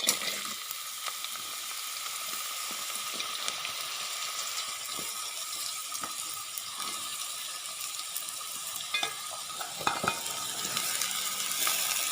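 Chopped onion fries in oil for a samosa filling, making a continuous close sizzle with scattered crackles and stirring scrapes, and no talking.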